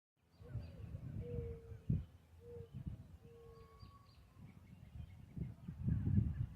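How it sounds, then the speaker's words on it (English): An owl hoots during a total solar eclipse in a graveyard, a few short, faint tonal calls spaced a second or so apart over close rustling and handling noise. "That's an owl hooting because it thinks it's dusk and the nighttime hunters want to come out and play."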